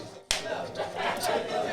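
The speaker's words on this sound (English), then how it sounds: "Oh, you really clap?" A single sharp hand clap made as an editing marker at a podcast recording, loud and close, sounding once near the start and followed by a low, steady room ambience.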